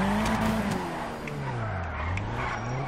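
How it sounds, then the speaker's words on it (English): Handbrake drift in GTA 5 with a GTR on a drift track, a continuous loud tire skid and squeal over a steady engine drone that rises and falls in pitch as the car slides around the corner. "So you kind of get a bit of speed here and then pull your handbrake and go around it."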